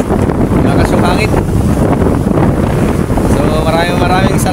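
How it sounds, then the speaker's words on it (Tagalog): Strong sea wind roars steadily across the microphone on a small fishing boat heading home, a loud continuous buffeting that swamps everything else, with faint speech briefly under it. "At ito nga lumakas. Lumakas yung hangin."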